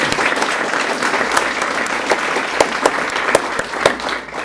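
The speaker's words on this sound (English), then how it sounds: "Give one more round of applause." An audience at a school board meeting applauds, a steady patter of many hands clapping with sharper individual claps standing out, fairly close and continuous throughout.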